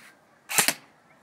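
A single sharp pop of a toy splat gun firing, brief and close, in an otherwise quiet space.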